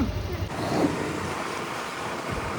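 Wind rushing past while riding slowly on a scooter with children aboard, a steady broadband roar of buffeting air across the whole stretch, close and fairly loud, with no clear talk over it.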